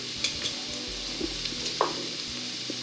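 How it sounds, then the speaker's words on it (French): Onion and garlic sweat gently in olive oil with a soft, faint sizzle, broken by a few light clicks of a utensil stirring the pan close by. "on va commencer à faire suer notre oignon dans l'huile d'olive."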